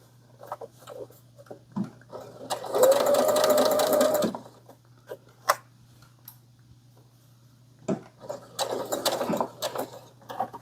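A sewing machine stitching a round tumbler bag runs in short bursts, a steady rapid whirring chatter for a couple of seconds, then again later, with handling clicks in between.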